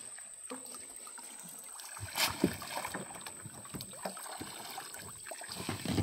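A boat being rowed along a jungle canal in the Marichjhapi mangrove forest, with soft water dips and paddle knocks and a louder splash partway through, over a steady outdoor background hiss.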